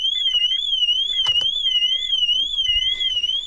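A Honda Civic car alarm wails continuously, a loud warbling siren tone sweeping up and down in steady cycles, with brief clicks and chirps underneath.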